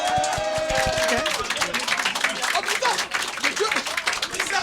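Partial applause from an event audience, a scattered mix of clapping hands mingled with crowd murmur and voices, fairly loud and steady throughout.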